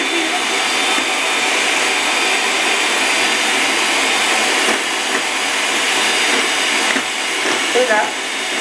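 An electric mixer beats mayonnaise with a steady, loud, continuous whirring drone that holds without a break throughout, with faint speech underneath.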